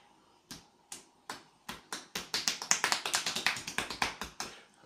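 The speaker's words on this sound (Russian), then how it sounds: "Как мы стучим? Ну, во-первых, можно просто кулак плотно зажать, будет удар достаточно мощный." Percussive manual back massage with fist and open-palm strikes: sharp, close slaps start sparse and steadily quicken into a rapid, dense rhythm before easing off, with no talk.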